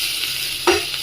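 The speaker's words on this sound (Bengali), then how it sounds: "ভেজে রাখা সবজিগুলো দিয়ে দেবো" Fried vegetables go into a pan of sizzling moong dal; a steady soft hiss is briefly punctuated by a short louder splash-like burst as they are added.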